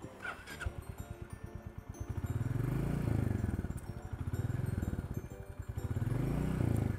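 A freshly serviced Royal Enfield Meteor motorcycle engine idles close by at a showroom with a steady low throb, its rumble swelling and easing in slow waves.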